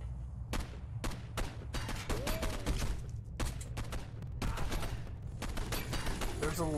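Gunfire in the video game Condemned 2: Bloodshot comes in sharp, spaced shots and short bursts at moderate level, with a voice talking underneath at times.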